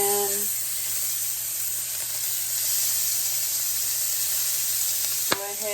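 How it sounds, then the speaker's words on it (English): Chopped bacon frying in a hot pan for Christmas lima bean soup, a continuous loud, hissing sizzle close up, ending with a sharp utensil clink near the end. "go ahead and fry some of this bacon up"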